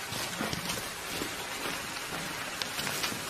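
Steady rain falling outdoors as darkness approaches, a dense even hiss with scattered droplet taps throughout, close and fairly soft with no voices.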